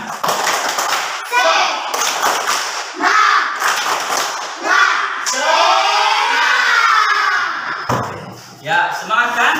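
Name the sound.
class doing a rhythmic clapping chant, tepuk semangat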